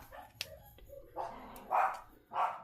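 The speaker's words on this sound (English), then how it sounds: "the dogs are barking" Dogs barking indoors, a few muffled barks and yips at moderate distance, with two louder, fuller barks toward the end.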